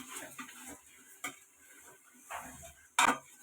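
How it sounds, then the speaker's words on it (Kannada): A spoon stirs garam masala into a chicken biryani mixture in a pot, giving soft, intermittent scraping and clinking strokes, with a louder clank near the end and no talk. "ಗರಂ ಮಸಾಲ ಹಾಕಿ ಮತ್ತೆ ಮಿಕ್ಸ್ ಮಾಡ್ಕೊತಾ ಇದ್ದೀನಿ"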